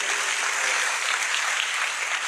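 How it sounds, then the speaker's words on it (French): An audience applauds at a talk, a dense, steady wash of clapping from many hands that stays even throughout. "On peut applaudir très fort les deux."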